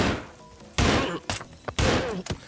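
Video game gunshots in Anger Foot, aimed at roaches: a few loud, sharp blasts separated by short pauses, with quieter clatter in between.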